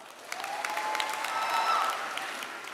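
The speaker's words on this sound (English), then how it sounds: "Give ourselves a round of applause." Graduation audience at a CUNY ceremony breaks into steady applause, a broad wash of clapping at moderate distance that swells slightly midway and carries on without speech.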